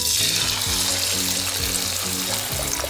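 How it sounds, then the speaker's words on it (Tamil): Fish deep frying in hot oil gives a loud, steady sizzle with a dense bubbling hiss throughout, no voices. "இப்போ நம்ம வந்து இதை டீப் ஃப்ரை பண்ணலாம்."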